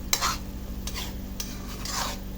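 A spoon stirs cheesy pasta sauce with a little sugar in a pan, producing a few scraping strokes over a constant low sizzle, close and distinct with no talking.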